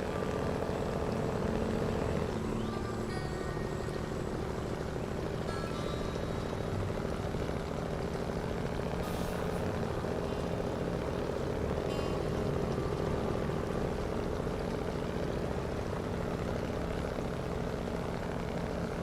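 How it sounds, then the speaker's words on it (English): A steady, rumbling truck engine in the video game SnowRunner drones continuously and fairly loud throughout, with no voices over it. "God, I love the sound of this engine."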